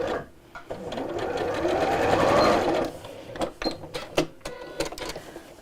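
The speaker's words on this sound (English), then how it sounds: "carry on sewing down" A sewing machine runs steadily along a fabric seam, a continuous mechanical whir for about three seconds, then breaks into short bursts and clicks as the stitching stops and starts.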